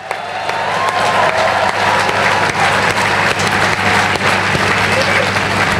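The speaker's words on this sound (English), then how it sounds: "Give them a great round of applause." Loud applause from a large crowd at a pro-European rally, clapping swelling quickly and holding steady, with a few cheers mixed in.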